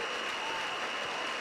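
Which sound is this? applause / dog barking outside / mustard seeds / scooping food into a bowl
applause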